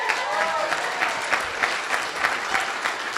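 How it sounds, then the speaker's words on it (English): A conference audience at an afternoon summer camp session on learning design claps steadily, a dense, sustained round of applause with no pauses. "Another round of applause for Dean Blackstock."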